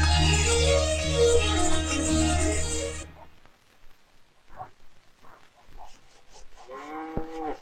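Cattle pulling a bullock cart moo in several low, drawn-out calls, the first one loud and long, then quieter lows and rustling afterward.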